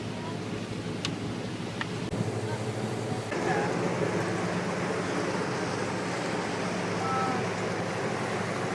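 Ocean waves near the Golden Gate roar steadily alongside wind on a boat outing, a continuous broad wash of water noise with faint voices mixed underneath.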